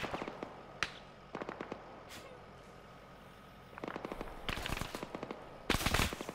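Machine-gun fire from an armed technical vehicle in Arma 3 comes in short, sharp bursts of rapid shots, fairly distant at first, then growing louder and denser toward the end, with quiet gaps between bursts.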